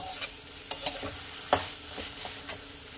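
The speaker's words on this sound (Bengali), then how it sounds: "আমাকে এটাকে ক্রমাগত নাড়িয়ে যেতে হবে, নাহলে পুড়ে যাবে" Tomatoes being stirred and fried in a pan for paneer butter masala, with a soft sizzle broken by a few sharp scraping clicks of the spoon, close and alone.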